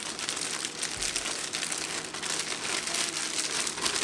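Chicken wings tossed with seasoning inside a plastic bag, giving a continuous crinkling and rustling of plastic, close and steady, with soft shifting thumps.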